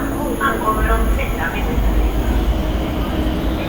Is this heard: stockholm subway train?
yes